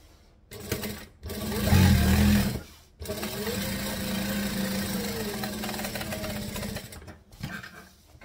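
A sewing machine stitches fabric for a bag in several bursts, a close, steady mechanical whirring that stops and restarts at short pauses, with faint speech in the background.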